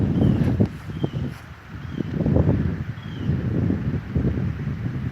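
Gusty wind blowing outdoors, a steady low roar that buffets a nearby microphone and swells and eases over a few seconds, with no voices.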